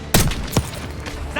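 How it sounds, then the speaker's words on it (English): Heavy gunfire in Call of Duty Black Ops 6, two loud sharp shots a moment apart followed by lingering battle noise and a faint voice beneath. "Under heavy fire!"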